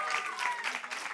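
Audience applause at a music release party, a short burst of fairly distant, even clapping from a crowded room.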